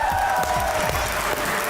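Studio audience applause welcoming guests Ata Tarar and Rehman Faris onto a Pakistani talk show set, a steady, dense wash of clapping and light crowd noise running loud throughout.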